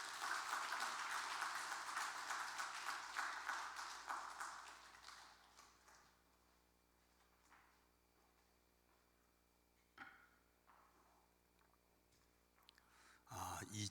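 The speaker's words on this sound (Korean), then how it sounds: "뜨겁게 박수 한번" A church congregation applauds warmly, a full wash of clapping that starts strong and fades away over several seconds, then leaves a quiet room with a few scattered taps and knocks, all fairly faint.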